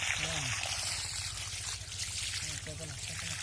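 Water poured in a light stream onto a wet cow dung mixture outdoors in rural Sundarban, a steady trickling splash lasting throughout, with people talking over it.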